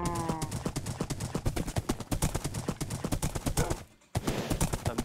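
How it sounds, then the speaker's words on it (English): Rapid, rhythmic hoofbeats of a galloping horse in Minecraft, loud and continuous, with a brief pause near the end before the pounding resumes. "But this horse is fast."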